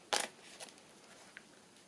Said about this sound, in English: I'll just cut inside